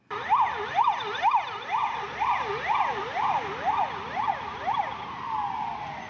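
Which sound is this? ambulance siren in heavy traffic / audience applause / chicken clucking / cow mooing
ambulance siren in heavy traffic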